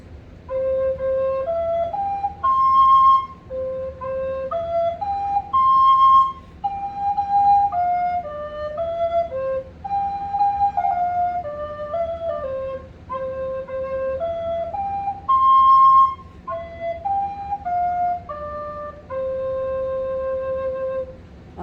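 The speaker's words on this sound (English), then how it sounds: "So I thought I would play the tune first on the recorder" A recorder plays a simple, slow melody of clear whistling notes, phrase after phrase with short pauses between, close and solo.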